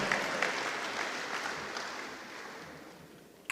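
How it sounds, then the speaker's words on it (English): Audience applause at a high school football hall of fame induction ceremony, a sustained ripple of many clapping hands in a large room, fairly soft and gradually tapering off. "How about a nice round of applause for those gentlemen who had outstanding high school careers and beyond"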